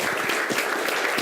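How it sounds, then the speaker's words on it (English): Brief burst of crowd applause, dense clapping from many hands at moderate volume, with no talking. "Let's give him a round of applause."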